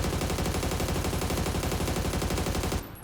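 A close, loud burst of rapid automatic gunfire in the battle royale game PUBG hits a window as a dense stream of evenly spaced shots, then cuts off abruptly at the end.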